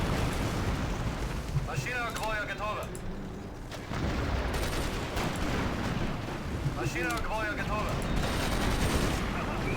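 Repeated booming blasts and rumbling explosions from a bombing attack in the WWII strategy game Axis & Allies, loud and sustained in two bursts, with chirping game effects overhead.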